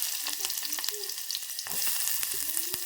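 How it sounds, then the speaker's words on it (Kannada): Chopped onions fry in hot oil with a steady bright sizzle, broken by short clinks and scrapes of stirring over about three seconds, close and fairly loud. "ಇವಾಗ ಎಣ್ಣೆ ಒಂದು ಸ್ವಲ್ಪ ಬಿಸಿ ಆಗ್ತಿದ್ದಂಗೆ ನಾನು ಇದಕ್ಕೆ ಉಳ್ಳಾಗಡ್ಡಿ ಹಾಕೊಂಡಿರ್ತೀನಿ"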